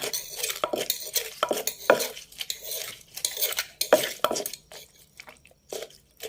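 Spicy chicken-feet papaya salad ingredients are stirred and mixed in a bowl with repeated scraping and clattering strokes, loud and close, in uneven rhythmic bursts with short pauses.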